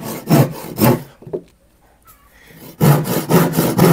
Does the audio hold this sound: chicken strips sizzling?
no